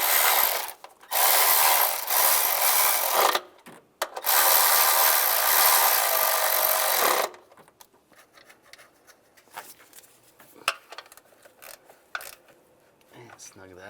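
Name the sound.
ratchet tightening intake manifold bolts on Chevrolet Silverado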